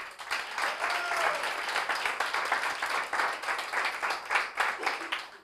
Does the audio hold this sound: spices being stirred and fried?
no